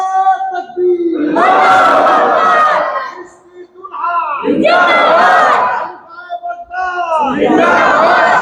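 A large crowd at a religious gathering roars back in unison after a Naara-e-Takbeer chant. The loud, sustained collective shouts come in three surging waves, with brief dips between them.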